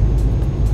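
Truck engine in Euro Truck Simulator 2 running at a steady loud low rumble for under a second, the throttle held open with little change in pitch, with no talk over it.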